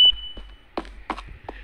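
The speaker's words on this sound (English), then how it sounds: "Please do not mind beeping." A short electronic beep from a key card door reader in a Minecraft SCP Foundation map, followed by a few muffled thuds and clicks, then a quiet stretch.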